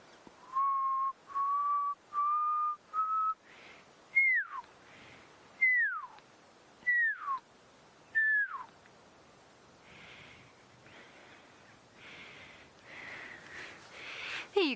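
A person whistles a repeated call imitating a pearl-spotted owlet at a sunset safari. Several steady rising notes are followed by downward-sliding whistles, with quieter rustling near the end.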